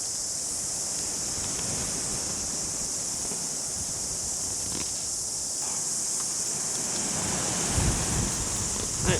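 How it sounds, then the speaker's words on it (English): Steady wind gusting across an outdoor campsite on a rainy overnight tent camp, a continuous broad rushing hiss with occasional soft knocks and rustles near the end. "That wind is picking up."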